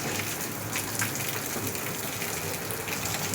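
Steady rain falls in a continuous, even hiss during a monsoon downpour over farm fields, with no breaks and no voices.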